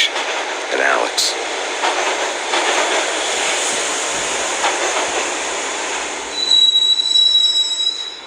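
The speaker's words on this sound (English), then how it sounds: "the train doors had already shut behind me, and I was in for the ride" A train in the video game Max Payne rides along the rails with a steady, loud rumbling roar and a high metallic wheel squeal that sharpens near the end.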